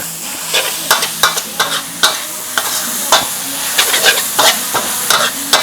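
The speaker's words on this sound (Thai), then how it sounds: "เราก็ใส่ ใบกะเพราลงไปครับ แล้วก็ผัดนะครับให้ใบกะเพราของเราสุก" Holy basil leaves, chicken and instant noodles are stir-fried in a pan, a spatula scraping and tapping in a steady rhythm over a constant loud sizzle, close up with no talk.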